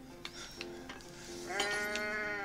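A goat bleats several times inside the game I am Bread, with short cries followed by a longer, sustained bleat near the end over a low background hum.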